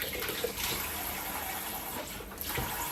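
Tap water runs in a steady, moderate gush into a kitchen sink during cleanup, an even splashing stream with faint clinks of dishes or utensils underneath.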